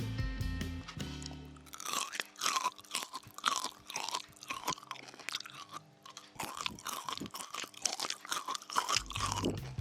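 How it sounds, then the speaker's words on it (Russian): Close, crisp crunching of Korean fried green tea being chewed, repeated bites in an irregular rhythm with brief pauses. "сейчас дам вам послушать звук этого хруста"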